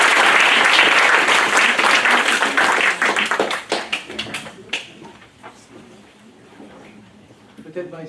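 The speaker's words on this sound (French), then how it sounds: "je pense qu'on peut applaudir Marie Suzanne pour sa présentation" An audience applauds after a presentation at an ethics conference, a dense burst of clapping that thins into scattered, fading claps over several seconds, with some talk underneath.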